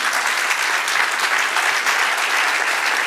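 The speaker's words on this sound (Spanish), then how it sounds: "Dale un aplauso al Señor." A church congregation claps in a steady, dense burst of applause from many hands, loud and sustained for a few seconds with no talking over it.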